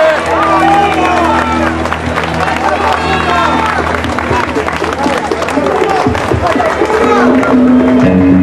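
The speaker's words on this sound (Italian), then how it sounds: "un pubblico meraviglioso che può iniziare l'applauso per favore" Large outdoor crowd at the Giro d'Italia stage start in Catania applauding and cheering steadily throughout, a dense continuous wash of clapping and crowd noise with music or announcer tones underneath.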